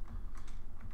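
Computer keyboard typing during a video game session, a quick burst of several close, soft key clicks in an even rhythm over a steady low hum.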